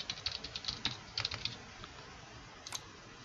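A password is tapped out on a computer keyboard in quick, light, close keystrokes, a burst of clicks followed by a pause and a final single key press.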